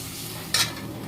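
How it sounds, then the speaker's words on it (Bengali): A potato and okra curry cooked with only a little water bubbles in a pot with a dense steady hiss, plus one brief louder splutter partway through, close and without talking. "এই যে তরকারিটা ফুটে গেছে"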